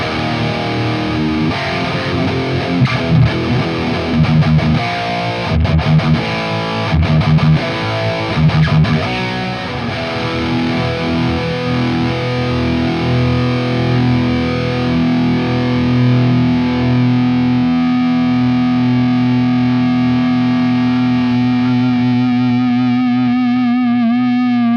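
An electric guitar plays through an EVH 5150 50W EL34 amplifier, miked with a 57 on the grill. Heavily distorted, loud continuous riffing and sustained chords run throughout with no talking.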